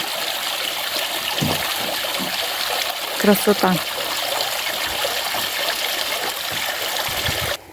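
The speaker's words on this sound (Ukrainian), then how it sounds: "Оцей звук води, як він біжить, збігає." Water trickles and splashes steadily in a small stream while a person speaks briefly over it, with a few louder gurgles midway.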